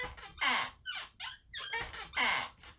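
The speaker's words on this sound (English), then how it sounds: "if you hear creaking and crunching, that's just our chairs" A papasan chair and a computer chair creak in a run of short squeaky bursts, uneven in rhythm and fairly faint, with no talking.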